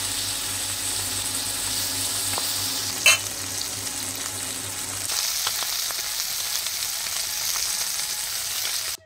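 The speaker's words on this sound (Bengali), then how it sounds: "ওরা মাছ নিয়ে আসতেই সেই মাছটা ভেজে তরকারিতে দিয়ে একটু ফুটিয়ে নিলাম" Fish sizzles and crackles steadily in a hot pan, a continuous close frying hiss with a brief sharp scrape near the start, the sizzle thinning slightly in the second half.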